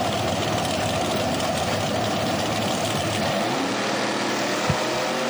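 Ford Pinto and Chevrolet Camaro drag cars idle at the starting line, a steady low engine rumble throughout, with a short sharp thump near the end.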